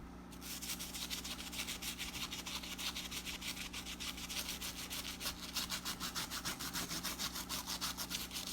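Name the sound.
brush scrubbing Air Max 95 sneaker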